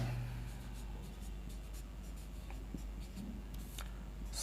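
A pen scratches out handwritten notes in a class on the Indian constitution, faint soft strokes over a low steady hum, with no talk.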